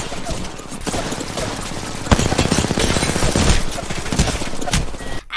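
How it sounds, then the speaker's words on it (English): Gunfire in the Apex Legends video game, dense and continuous bursts of automatic shots crackling over loud game noise, with a sharp impact near the middle and no clear talk. "I'm being shot from behind."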